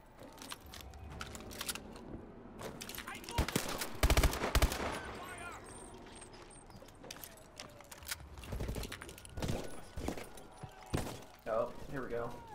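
Gunfire in the Call of Duty: Advanced Warfare campaign mission Utopia, with a dense cluster of loud bursts near the middle and scattered shots afterward, mixed with game noise and a talking voice.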